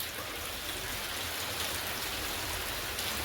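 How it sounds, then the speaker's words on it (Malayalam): Steady heavy rain pours down in an even, unbroken hiss that stays constant throughout, with no voices. "കാണുന്ന മഴയല്ലേ."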